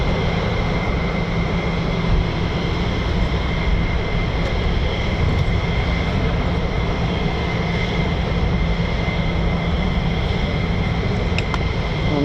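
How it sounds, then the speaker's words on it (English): F-15E Strike Eagle fighter jets at RAF Lakenheath produce a continuous broad engine roar at moderate distance, steady throughout. "Here we go, more F-15E Strike Eagles, ladies, gents and teddy bears, here we go."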